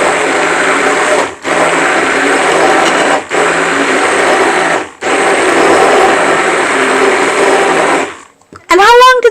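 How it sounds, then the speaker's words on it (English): A kitchen blender runs loudly, whirring as oil and egg are emulsified into mayonnaise, in several long continuous bursts with brief pauses between them before it stops. "the oil and the egg will be emulsified by the blender, so you get a thick, beautiful mayonnaise."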